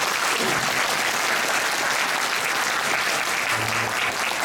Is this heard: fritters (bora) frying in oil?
no